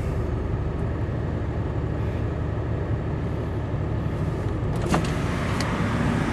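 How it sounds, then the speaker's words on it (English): A Mazda van idles after a cold start while its electric power window runs, a short whirring motor rising over the steady engine rumble near the end. "Power window works."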